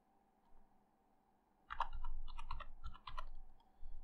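A PIN is typed on a computer keyboard as a quick cluster of close, crisp key clicks, a few sharp taps in irregular succession after a quiet start.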